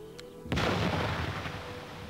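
An explosives demonstration charge detonates about 1,000 feet away in one sudden, sharp blast that fades into a long, rumbling decay.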